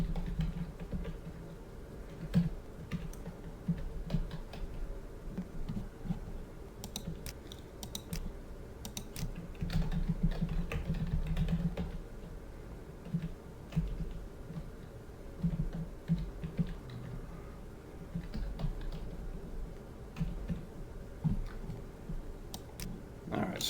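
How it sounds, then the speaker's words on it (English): Soft clicks and taps on a computer keyboard, with steady irregular keystrokes over a low background hum, quiet and fairly close, no voices. "I will just type over some of this data."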